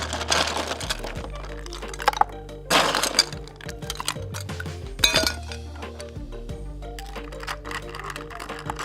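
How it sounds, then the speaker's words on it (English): Ice cubes clink and rattle into a glass of soda for a mint cocktail, several sharp bright knocks and a clattering tumble up close, standing out from a quiet room. "A little bit of ice to that one."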